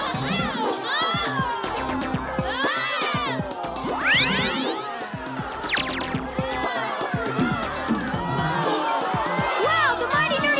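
Crowd of children shouting and cheering together, a loud continuous clamor with excited high voices, plus a rising cartoonish boing sweep partway through.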